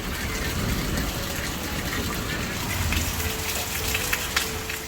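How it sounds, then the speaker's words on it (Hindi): Heavy rain pours down outside in a hillside setting, a dense, steady hiss of drops drumming on surfaces with scattered sharper spatters, loud and continuous throughout with no voices. "बारिश लगी भयंकर वाली"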